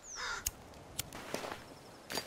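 Crows in The Forest video game cawing a few times, short harsh calls spread out over a faint ambient hum, with a soft thud or step between them.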